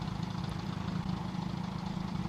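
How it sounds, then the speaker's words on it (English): Class 122 Bubble Car diesel railcar engine idling in the game Train Simulator Classic, a steady, close low rumble with an even, slightly knocking pulse throughout. "you've got that idle sound, which is just, you can hear the cutting out of the engine"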